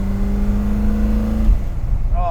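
A 1966 Ford GT40 engine runs close by with a loud, steady droning hum that shifts and roughens about halfway through, continuing without a break.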